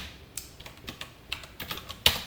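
Quick, uneven keystroke clicks of code being typed on a computer keyboard, close and clear, with a sharper key strike near the end and no voices.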